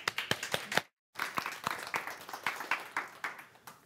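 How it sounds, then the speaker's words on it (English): Audience applause welcoming a guest speaker at a marketing and communication talk: a steady run of sharp, fairly close claps, briefly cut off by a short silence, then resuming and slowly thinning out. "let's give a big round of applause for our first guest"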